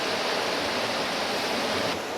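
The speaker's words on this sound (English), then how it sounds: "it's just a beautiful creek out here" Steady, close rushing of a creek flowing past the front porch of a rustic cabin in Alaska, a dense broadband wash with no pauses.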